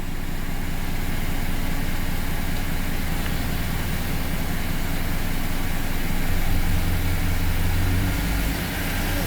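Chevrolet Silverado truck engine idling after its first start, a steady low rumble with a constant mechanical drone, close and loud throughout.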